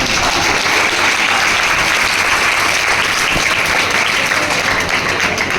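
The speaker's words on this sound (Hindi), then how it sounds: "ताली पहले मार दो" A crowd claps loudly and continuously, a dense wash of applause holding steady throughout.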